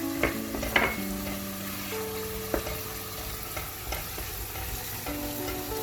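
Parsley and vegetables being stirred in a pot while cooking stuffed grape leaves in olive oil: steady sizzling with repeated utensil scrapes and clinks against the pot, close and fairly loud.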